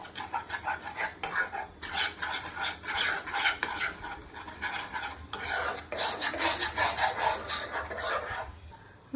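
Mango pulp and milk are stirred in a wok, a spatula scraping the pan bottom in repeated rhythmic strokes, close and fairly quiet, with short pauses between passes.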